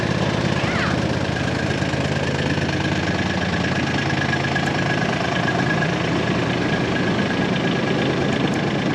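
A four-wheel drive vehicle stuck in dry ground, its engine running steadily and loud for the whole stretch with a constant droning rumble, no clear talk over it.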